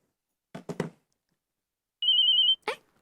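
A household telephone gives a single short electronic ring, a steady warbling tone about half a second long, with brief voices just before and after it in a domestic setting.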